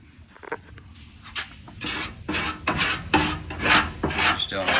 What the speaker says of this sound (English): It's easier to do a quick scrape than it is sand it off.